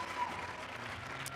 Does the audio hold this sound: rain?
no